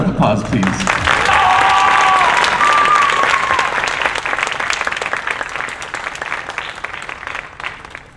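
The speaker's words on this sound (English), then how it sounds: "One last round of applause, please." A dense round of audience applause at the Golden Fleece 2023 presentation, loud and sustained at first, then thinning gradually toward a softer patter, with a brief voice audible early on.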